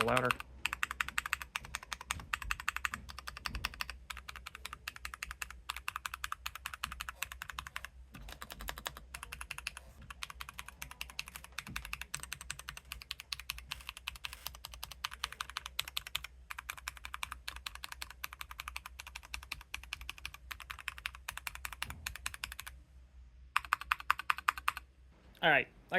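Keys clacking steadily on a Keychron C3 Pro mechanical keyboard, a dense run of close, crisp keystrokes with brief pauses and a louder burst near the end.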